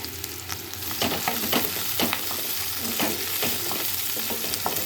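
Onions with green chillies fry in a pan, a steady loud sizzle broken by repeated scrapes and clacks of stirring, with no voices over it.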